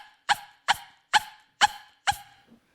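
A human voice imitates a small Pomeranian dog barking: five sharp, evenly spaced yaps, close and clear, with silence between them.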